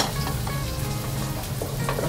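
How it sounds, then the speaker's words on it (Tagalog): Garlic sizzling in a hot frying pan, a continuous close hiss of frying with small crackles and faint clicks of stirring. "Tapos ilalagay ko itong garlic."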